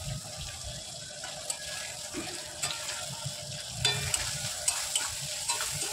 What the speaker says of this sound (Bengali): পেঁয়াজ কুচিটা ভালো করে একটু লাল লাল করে ভেজে নেব।